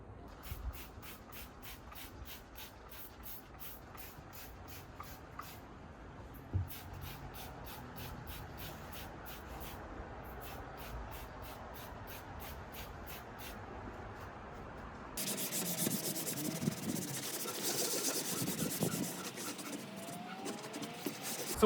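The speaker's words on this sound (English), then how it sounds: "I'm going to spray the entire interior of the cold plunge, and I'm going to scrub" Cleaner is sprayed in rapid repeated spritzes inside a RevX Wellness cold plunge tub, followed by continuous close rubbing and scrubbing with a sponge against the tub surface.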